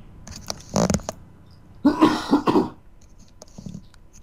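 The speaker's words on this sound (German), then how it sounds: "ich darf noch nicht mal mein Mikro muten, wenn ich husten muss" Several coughs from a man with a slight cold: a short pair near the start, then a louder burst of three or four rough, close coughs, with a quiet background and no talk.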